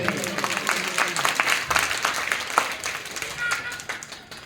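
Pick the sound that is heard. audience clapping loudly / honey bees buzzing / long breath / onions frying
audience clapping loudly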